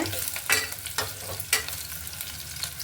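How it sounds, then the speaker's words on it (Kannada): Small chopped onions fry in oil in a pan, a steady close sizzle broken by three sharp scraping stirs at regular intervals, with no voices. "ಈಗ ಈರುಳ್ಳಿ ಬೇಯ್ತಾ ಇದೆ"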